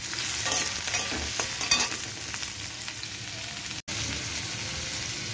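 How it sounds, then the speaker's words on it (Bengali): Onions fry in hot oil in a pan, a dense steady sizzle with occasional scraping stirs near the start and a brief break partway through. "পেঁয়াজটাকেও ভালো করে ভাজা ভাজা করে নেব"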